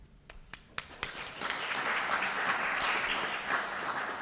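An audience breaks into applause to welcome a lecturer at a talk, starting with a few scattered claps that quickly swell into steady, sustained clapping from a crowd in a hall.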